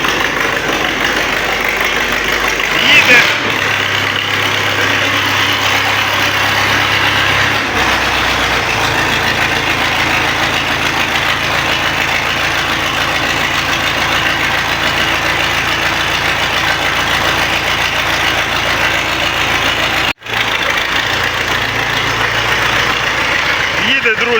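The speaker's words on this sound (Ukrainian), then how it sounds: "оце тобі трактор" A loud tractor engine idles in a steady, rumbling drone close by, broken once by a brief dropout, with voices talking over it.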